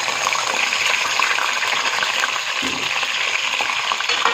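Potatoes sizzle steadily in hot oil in a pan for a potato and egg curry, a dense, continuous crackling hiss that stays close and even throughout.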